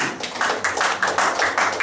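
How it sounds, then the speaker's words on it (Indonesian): Congregation clapping during a church prayer meeting, a brisk run of fairly close hand claps in uneven bursts with no talking over it. "Tepuk tangan."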